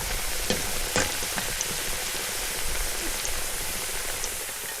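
Banana slices fry in hot cooking oil over a wood fire, a dense steady sizzle with crackles and occasional sharper pops, close and continuous with no talking.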